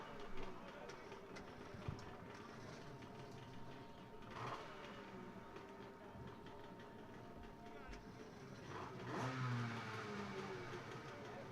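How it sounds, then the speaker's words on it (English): Several engines rev together at the start of an ECW round in Laconia, New Hampshire, a steady rumbling drone with rising surges, heard from a distance under crowd noise and an announcer's voice. "riders got their engines fired up, and here we go."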